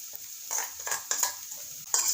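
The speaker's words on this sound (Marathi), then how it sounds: "आता जो दह्यात कालवलेला मसाला आहे तो मसाला आपण यात घालूया" Yogurt-soaked spice masala stirred into sautéed tomatoes in a pan, with soft scraping strokes and bursts of gentle sizzle coming in short uneven pulses, quiet and close.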